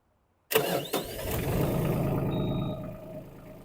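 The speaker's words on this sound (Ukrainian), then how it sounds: "заведемо, подивимося, як працює двигун" A Mitsubishi GJ27 mini tractor's small diesel engine cranks and catches after a brief silence, then settles into a steady idle rumble nearby.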